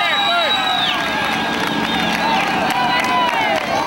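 Dense stadium crowd roaring and cheering at the finish of a hot, hilly 2008 road race in San Blas, a loud continuous wall of voices with scattered whistles and shouts swelling as the leading runner approaches.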